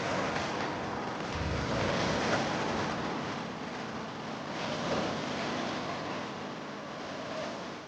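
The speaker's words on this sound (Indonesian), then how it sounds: "menikmati suasana hingga mendengarkan suara desir ombak" Ocean waves wash steadily over an exposed sandbar off a small island at rising tide, a continuous broadband rushing surf with gentle swells and some wind noise, close and fairly loud, with no voices.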